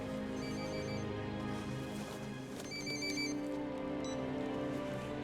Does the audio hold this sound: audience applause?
no